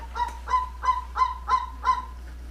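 A captive bird named Mogondo giving six evenly spaced honking calls in a steady rhythm, loud and close over a low constant hum.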